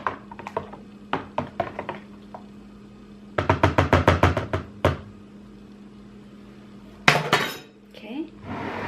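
Juice ingredients are being mixed in a container, producing bursts of rapid clinking and tapping, like a utensil stirring against dishware, separated by brief pauses and ending in a louder clatter.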